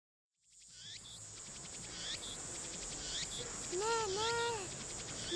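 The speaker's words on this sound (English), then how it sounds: "It's a lot of cicadas." Summer cicadas drone in a loud, continuous shrill chorus that swells in after a brief silence and keeps pulsing steadily, with a few higher chirping calls rising near the end.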